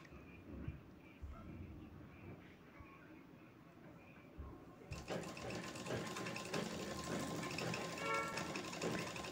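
A sewing machine joining silk saree border strips, quiet handling and a voice at first, then a sudden steady mechanical whirr of stitching for the last few seconds.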